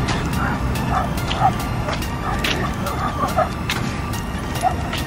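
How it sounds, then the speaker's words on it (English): A dog out on a family walk that pulls on its leash barks several times in short, uneven bursts, mid-distance, over steady outdoor traffic rumble. "This is our crazy dog."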